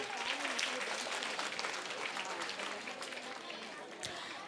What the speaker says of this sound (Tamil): நல்லா ஆடின பிள்ளைங்களுக்காக எங்க ஒரு கைத்தட்டல்.